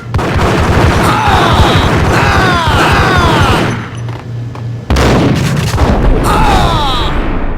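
Heavy, sustained gunfire from the Max Payne game, with booming shots and rapid bursts layered over a chaotic, loud battle din, a brief lull, then another burst of firing.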